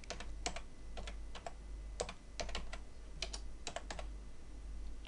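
Typing on a computer keyboard while entering text in Adobe Photoshop, a quiet run of quick irregular key clicks in short bursts, heard alone and close up.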